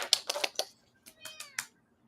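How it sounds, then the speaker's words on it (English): Elvis the Tarot Kitty, a cat, meows several times in quick succession, short close but soft cries, then a brief pause and two more meows. "Is that Elvis the Tarot Kitty?"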